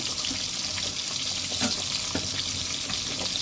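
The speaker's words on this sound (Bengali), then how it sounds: "লেজাটা বড় মতন, তো 2 পিস দিয়ে প্রথম ভেজে নেব, তারপরে 3 পিস ভেজে নেব।" Turmeric-rubbed pieces of katla fish fry in hot oil, a dense, steady sizzle with crackling pops that holds close and fairly loud throughout.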